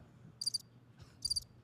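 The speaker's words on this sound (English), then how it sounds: "That was crickets." Cricket chirping used as a comic sound effect on a wrestling podcast: two short, quiet bursts of high chirps separated by near silence.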